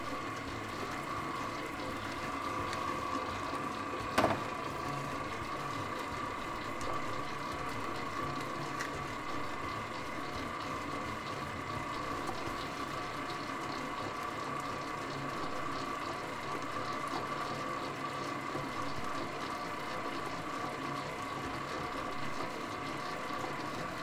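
A Mini Mix dough mixer kneads pinsa dough as water is added, giving a steady mechanical whir and sloshing drone that runs without a break, with one sharp knock near the start.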